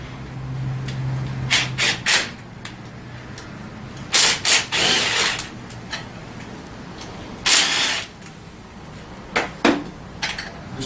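An 8mm wrench working screws loose from the front rack of a Tao Tao CY50D scooter during assembly, bursts of metallic ratcheting and scraping close by between quieter pauses, with a faint low hum early on.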